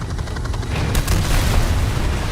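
A helicopter crashes in the Call of Duty video game, giving a loud, dense booming roar that surges with crackling debris and sustains heavily throughout, with no voices.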